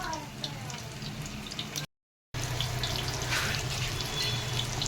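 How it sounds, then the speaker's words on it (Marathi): Chicken 65 frying in oil over a low gas flame, a steady close sizzle and crackle that briefly cuts out, then resumes just as evenly. "याला मस्त कमी गॅसवरती फ्राय करायचं"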